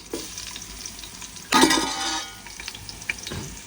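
Onions sizzle as they sauté with ginger garlic paste for mutton biryani, with a loud burst of frying and stirring midway and then a softer crackle and light scrapes, close, without talk.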